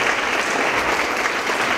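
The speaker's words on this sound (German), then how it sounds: "Vielen Dank für diesen Applaus" Audience applause at a birthday concert, a dense, steady patter of many hands clapping throughout, fairly close and even in loudness.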